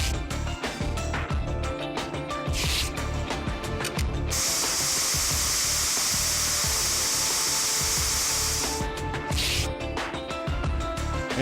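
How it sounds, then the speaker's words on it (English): A steady hissing spray of forensic spray in the Trauma Team video game runs continuously for several seconds, loud and close over a music bed. "And let's not spray everywhere else too."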